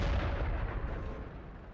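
A KV-2 heavy tank's 152mm gun fires in a World of Tanks battle, a single heavy boom with a long rumbling decay that fades slowly over nearly two seconds.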